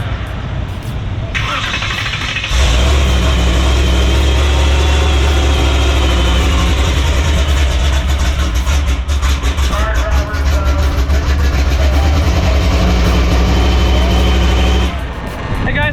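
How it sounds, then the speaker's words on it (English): A drag race car engine cranks and catches, then settles into a loud, steady idle with a deep rumble that runs nearly the whole time before cutting off. "So we just fired that car up"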